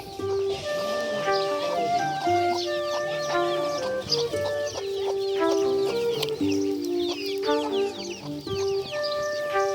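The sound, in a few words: chickens clucking in a village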